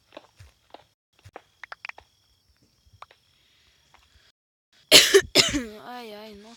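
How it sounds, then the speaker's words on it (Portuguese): Soft, sparse clicks lead into a burst of two or three close, harsh coughs from a person, followed by a wavering voice. "Ai, nossa, que tosse."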